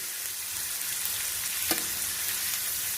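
A steak cooks in a pan on a stovetop burner set low, giving a steady, even sizzle throughout with one brief sharper crackle partway through.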